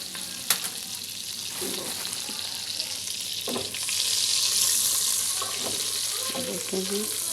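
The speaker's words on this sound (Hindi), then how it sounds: "इनको भी हमने 2 से 3 मिनट फ्राई करना है" Curry leaves and green chillies fry in hot oil for a Pakistani mash (white urad) daal, giving a steady close sizzle with a few sharp pops and the scrape of stirring, and the crackle swells midway.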